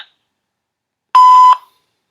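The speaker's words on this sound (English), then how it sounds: "Record your message after the tone." A single steady voicemail beep tone on a phone line sounds clearly for about half a second after near silence, loud and alone.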